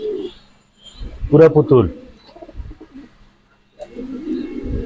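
A freshly paired male and female pigeon at a farm coo in low, soft bursts at the start and end, while someone speaks loudly in the middle.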